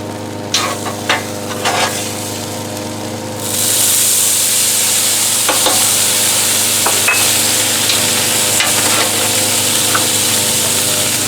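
Corn roasting in oil on a Blackstone griddle, a steady loud sizzle that swells after a few scraping taps and then holds evenly, with occasional clicks of a utensil against the hot surface.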